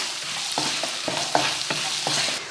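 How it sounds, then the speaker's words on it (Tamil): Onions, small garlic cloves and curry leaves sautéing in hot oil, a steady sizzle broken by several rhythmic stirring scrapes of a spatula in the pan, close and fairly loud, with no voices. "ரெண்டு பெரிய வெங்காயம் கொஞ்சமாக சின்ன பூண்டு ரெண்டு போட்டு வதக்கிடுவோம்"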